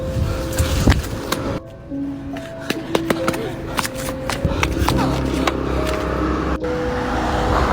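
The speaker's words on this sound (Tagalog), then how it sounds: "May paparating na sasakyan!" A car approaching along a road where an elderly woman is crossing, heard as a steady engine and road rumble that builds toward the end, with scattered clicks and bumps over it.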